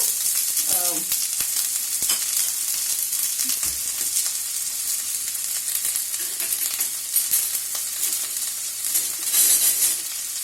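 Chicken sautéing in a pan with chillies gives a steady close sizzle and hiss, with occasional clinks and scrapes of stirring.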